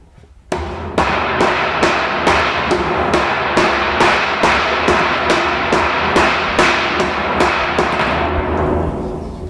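A tinsmith beats sheet metal with a filao wood tool, steady metallic blows struck roughly twice a second, close and loud with ringing tails, continuing for the whole stretch without talk.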